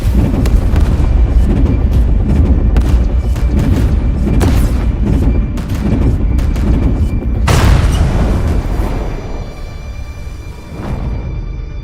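Warship guns in a Warhammer 40,000: Chaos Gate cutscene boom in a rapid, heavy barrage, loud overlapping blasts with one especially big report partway through before the volley thins out.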